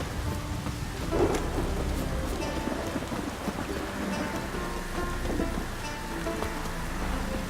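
Steady rain and a thunderstorm in The Witcher 3 video game, a dense wash of falling rain with low rolling thunder rumbles underneath, continuous and fairly near.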